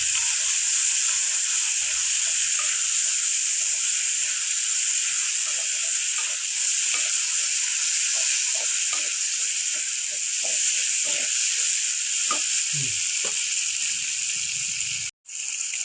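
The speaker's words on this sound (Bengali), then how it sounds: "দেখো আমি মাছের তেলটা এখন দিয়ে দিলাম। ওখানে মশলা কিছু দিইনি, এখন ভালো করে ভাজতে হবে।" Rohu fish oil fries in a pan with a steady, bright sizzle that runs throughout. Faint clicks and soft knocks break in now and then, and there is a brief dropout near the end.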